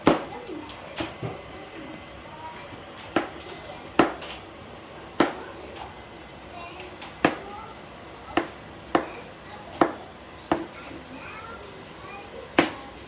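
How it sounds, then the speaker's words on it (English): A knife chops garlic on a cutting board in a home kitchen, giving about a dozen sharp, irregularly spaced knocks, close and clear, with faint voices in the background. "So cutting up our garlic now."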